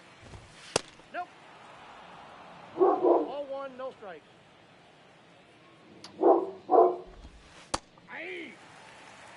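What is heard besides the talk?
dog barking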